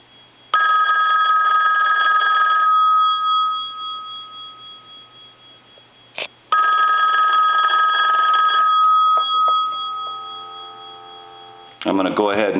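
A Western Electric rotary telephone's bell rings loud and close in two long bursts separated by a pause, with a faint tap between them and a brief clatter at the end.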